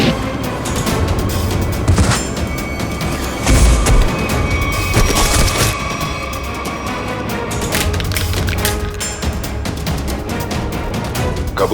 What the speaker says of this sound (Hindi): हम लोग तो कबूतर पे गोली चला रहे थे सर